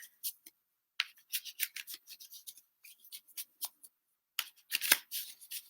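Tarot cards being shuffled by hand, a series of quick, close papery riffles and rubs in irregular bursts with short silent gaps.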